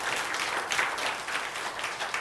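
A church congregation at a Sunday morning worship service breaks into steady applause, a dense, even patter of many hands clapping throughout, with no speech over it.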